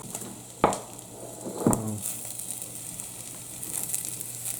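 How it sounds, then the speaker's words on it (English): Garlic dropped into a hot pan for a Sri Lankan mutton curry gives a steady hiss and sizzle, broken by two sharper clattering hits early on, then settling into a continuous crackle. "We've now added the garlic."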